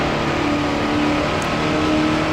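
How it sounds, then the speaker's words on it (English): A Mercedes race car in Grand Prix Legends on the Dundrod circuit, its engine droning loud and steady as it picks up speed, a continuous close buzzing tone with no talk. "get our Mercedes up to speed"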